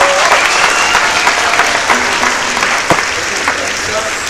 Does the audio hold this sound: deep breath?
no